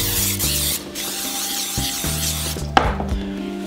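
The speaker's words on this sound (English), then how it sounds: "We're gonna spray down our pans." Several hissing bursts of aerosol cooking spray, with a steady hum beneath and a sharp clack of a pan near the end.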